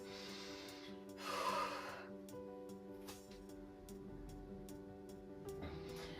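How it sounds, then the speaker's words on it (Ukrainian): A person takes a slow, audible breath in and a longer breath out during a gentle postpartum pelvic-floor breathing exercise, soft airy rushes over quiet, steady background music with faint ticking. "Робимо вдих, видих, розслабили вдих."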